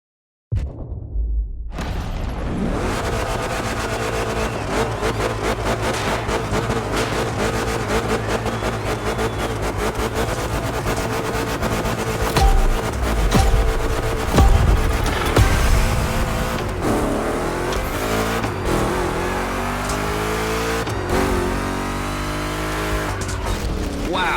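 Chevrolet big block race cars in The Crew Motorfest gymkhana, engines roaring loud and continuous at high revs, with tire squeal and skidding rising and falling as the cars slide through rough turns.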